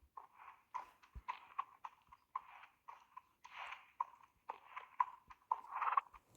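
Hooves of a horse trotting in a riding arena, a steady rhythmic clip-clop of repeated footfalls, fairly close and clear with no talk over it.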